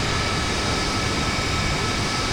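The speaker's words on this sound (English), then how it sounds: "aircraft taking off. All the big Tu-19s there. Tu-16s, sorry." Steady, loud roar of Tu-16 bombers taking off in the naval combat game Sea Power, a dense continuous jet-engine rumble with no breaks and no voices.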